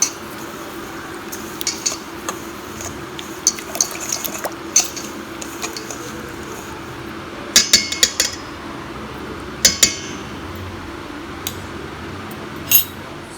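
A spoon stirs a sugar mixture for a date and walnut cake in a bowl, with irregular soft scraping and several sharp clinks of metal against the bowl, close by and with no talking.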